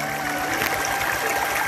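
Clear mountain water flowing at a waterfall, a steady broadband rushing wash that holds evenly throughout without pauses, close and moderately loud.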